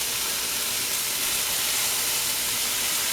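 Bacon-wrapped jalapeño duck pieces held with toothpicks sizzle steadily in a frying pan, giving a close, continuous hiss and crackle with no pauses and no voices.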